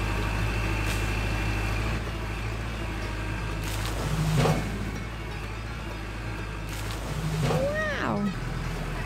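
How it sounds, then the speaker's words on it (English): A toy tractor's small motor runs with a steady, low droning hum throughout. A couple of brief higher swooping sounds rise over it partway through. "Tractor will drive into the creek and use the bucket to pick up water."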